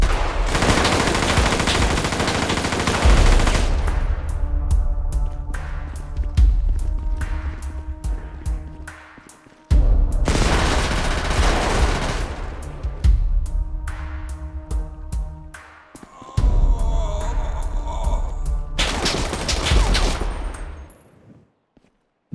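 AK-47 automatic gunfire in the video game GTA, long loud bursts of rapid shots separated by short pauses and scattered single cracks, ending in silence.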